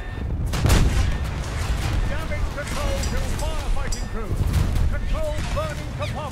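A warship's guns firing shell salvos in a naval video game, heavy booming blasts rolling over a steady engine-like rumble, with someone talking calmly throughout.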